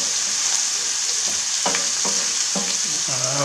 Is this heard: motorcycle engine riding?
no